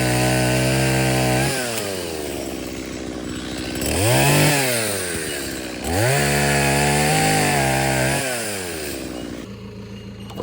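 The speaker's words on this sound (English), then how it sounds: "Always handy bringing the chainsaw along with you just in case you come across little obstacles like that." A small chainsaw revs and bogs repeatedly as it cuts through wood beside a creek, its pitch dipping and rising in several bursts, loud and close, with no voices.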